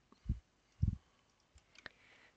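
Sparse computer keyboard typing during programming, with a few soft isolated key clicks spaced irregularly at low level and no talk.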